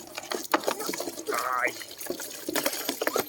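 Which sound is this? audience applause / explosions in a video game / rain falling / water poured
water poured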